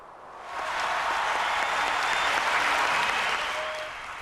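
Crowd at a concert at Leeds Castle in Kent applauding in a standing ovation, dense sustained clapping that swells in, holds steady and tapers slightly at the end.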